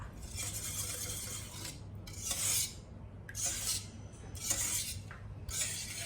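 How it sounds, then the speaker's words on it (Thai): A hand whisk mixes muffin batter in a bowl with brisk, rasping scrapes that come in several separate bursts, each a second or so long with short pauses between, close and clear. "จากนั้นใช้ตะก้อมือคนผสมให้เขาเข้ากันค่ะ"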